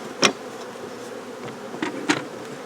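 Honeybees from an opened hive during a colony inspection, a soft steady hum with a few brief louder buzzes as single bees pass close by.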